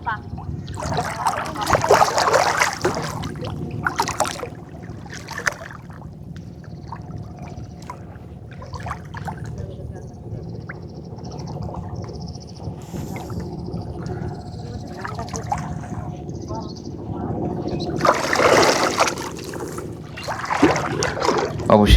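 Wading through waist-deep water out on a char flat where women are catching fish by hand, with steady splashing and sloshing as the body pushes forward, bursts of louder churning near the start and end.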